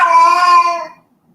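A house cat gives a single loud, drawn-out meow close by, holding a steady tone before trailing off into silence.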